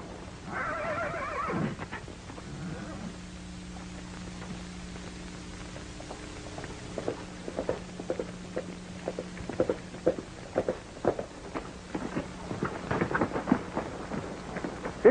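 A horse whinnies loudly at the opening of a 1937 Western drama, followed by a low static-laden hum and then a run of clip-clop hoofbeats that grows denser and louder as the rider approaches.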